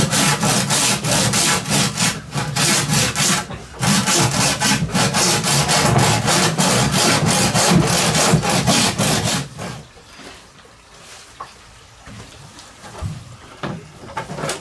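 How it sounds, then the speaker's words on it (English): A hand saw cuts through clamped wood in steady, rhythmic back-and-forth strokes, loud and close for about ten seconds before fading to quieter, scattered scraping and handling noise. "a piece of wood that I can pressure the saw against, keep everything straight"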